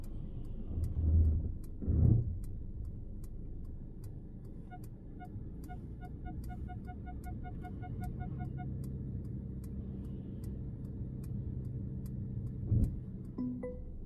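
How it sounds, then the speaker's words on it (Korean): A 2025 Mercedes-Benz E200 Avantgarde creeps slowly in automatic parking mode, giving a faint low engine and road rumble with regular soft ticking and a few light electronic beeps inside the cabin. "엑셀을 한번 살짝 밟아주면 주차 모드가 실행이 되는 거고, 조금씩 갈 거예요."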